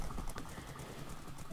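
Steady clip-clop of a horse's hooves in the Minecraft video game during a race, a quick, even rhythm over constant game background noise.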